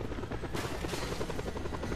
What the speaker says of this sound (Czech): tady je vrtulník